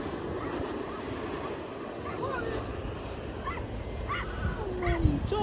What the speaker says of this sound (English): How many dogs are there?